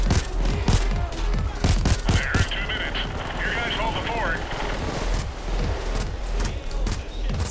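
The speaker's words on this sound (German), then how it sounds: "Wer schießt auf mich?" Rapid gunfire crackles through a PayDay 2 harbor transport heist: dense volleys of sharp shots and automatic bursts, loud and continuous across the whole stretch, with voices over the shooting.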